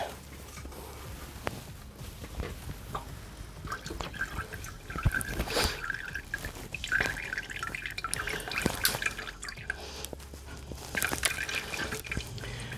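Coolant drains from a PC water-cooling loop, making irregular, close-up drips and small trickling splashes over a low, steady background hum.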